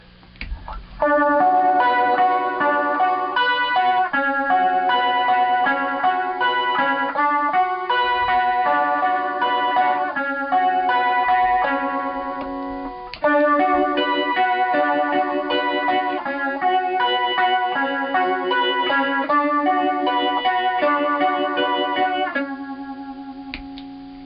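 An electric guitar plays steady chords and melody through a vintage MXR Phase 90 phaser at its fastest speed, loud and continuous for about twenty seconds before fading.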